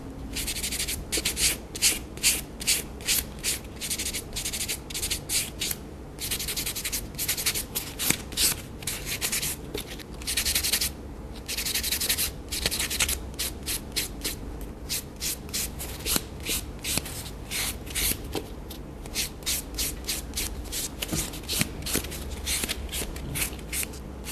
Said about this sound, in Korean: 샌딩 블록을 이용해 매끄럽게 다시 한번 표면 정리를 해줍니다.